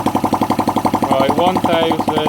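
A 1978 Honda Chaly CF70 engine idles close up at around 1300 RPM, a fast, steady, even put-put pulse that continues throughout.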